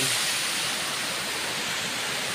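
Mabawod Falls waterfall: a steady, loud, broadband rush of falling water, continuous and close, with no talking.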